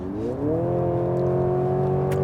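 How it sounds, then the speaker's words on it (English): A 2024 Mercedes-Benz GLC's artificial sport-mode engine sound rises in pitch, then holds a smooth, steady droning hum with layered harmonics, loud and close, without speech. "there's a bit of a fake engine noise pumped in this sport mode"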